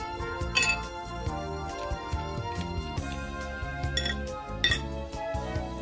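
Metal spoons and coins drop into a bowl of water with repeated clinks and splashy clatters in an irregular rhythm, close and fairly loud, with no one talking.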